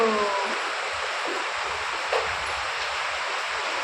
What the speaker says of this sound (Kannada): ಮನೆ ಮುಂದೆ ನೀರು ನೋಡಿ ಬರ್ತಾ ಇರೋದು ಎಷ್ಟು ಬರ್ತಾ ಇದೆ ನೀರು